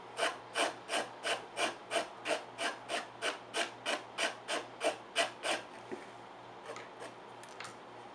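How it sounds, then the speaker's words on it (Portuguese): A nail file rasps back and forth over MDF wood in about fourteen steady, evenly spaced strokes, close and clear, then a few softer scattered scrapes trail off. "Vão passando a lixa de unha"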